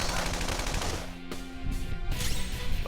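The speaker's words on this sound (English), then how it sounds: "so let's just use our gun on them" Sustained automatic gunfire in Persona 5 Royal, a fast, loud stream of shots close up that runs almost without a break. A short pause comes midway before the firing resumes more intensely.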